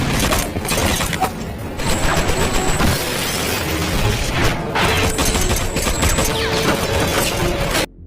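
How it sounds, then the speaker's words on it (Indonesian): Dense, continuous gunfire from a film gunfight, with clattering metallic shots and crashes, loud and chaotic throughout, ending abruptly. "Dalam baku tembak sengit ini, anak buah Johnny harus tewas."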